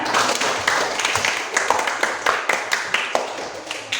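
A classroom group claps together in a quick, uneven burst of applause that carries on steadily, with some faint voices mixed in.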